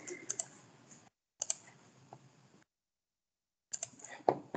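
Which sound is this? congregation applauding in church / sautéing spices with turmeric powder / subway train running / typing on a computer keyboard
typing on a computer keyboard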